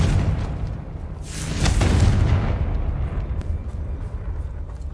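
A Confringo spell explodes in Hogwarts Legacy: a loud, close fiery blast swells into a broad rumbling boom that slowly fades into a hissing tail.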